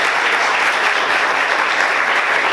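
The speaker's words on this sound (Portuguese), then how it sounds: "Aplauda Jesus com bastante alegria." A church congregation applauding together, steady dense clapping that fills the space from start to finish with no pauses.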